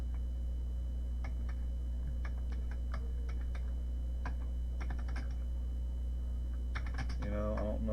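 Quick, irregular clicks from a Commodore 64 keyboard come in short bursts over a steady low hum, up close, with a slightly longer run of keystrokes near the end and no talking.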